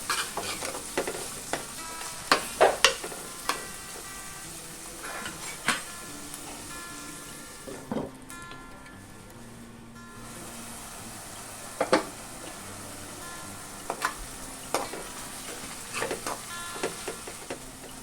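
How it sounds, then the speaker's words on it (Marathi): Tomatoes and softened onion are stirred and sautéed in a pan, a steady low sizzle broken by repeated sharp scrapes and clicks of a spoon against the pan, close and without speech. "त्याच्यामध्ये आता आपण टोमॅटो घालूया। टोमॅटो परतून घेऊया।"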